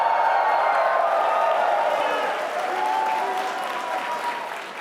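A lecture audience at a science talk breaks into sustained applause with scattered cheers, a dense steady patter that gradually eases over several seconds.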